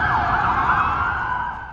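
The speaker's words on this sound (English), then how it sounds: "Sirens echoing through the neighborhood, smoke filling the sky." Emergency vehicle sirens wail at a camper fire in a Lemon Grove neighborhood, a loud continuous rising and falling tone with overlapping sweeps over low traffic rumble.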